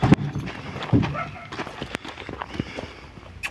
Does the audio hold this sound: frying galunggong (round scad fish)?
no